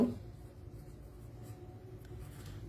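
Faint scratching of pen on paper while a maths calculation is written out, a soft continuous scribble over low room hum with no talking.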